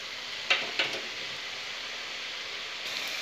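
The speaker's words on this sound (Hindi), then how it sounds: "अब हम तैयार की हुई हमारी मटर ऐड करेंगे तेल में" Dried peas drop into hot oil in a wok over a medium-high flame and fry with a steady close sizzle, with a couple of sharp spatters near the start.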